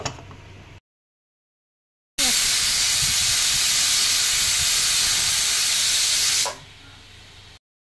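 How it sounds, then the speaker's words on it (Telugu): A pressure cooker with biryani vents steam in a loud, sustained hiss for about four seconds after a silent gap, then the jet stops abruptly. "2 విజిల్స్ వచ్చేంత వరకు మూత పెట్టేసుకుందాం."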